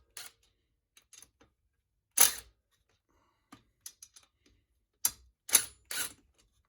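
A 14 mm socket wrench works a bolt on a billet aluminum performance head, giving sparse, close metallic clicks and short ratcheting bursts separated by silent pauses.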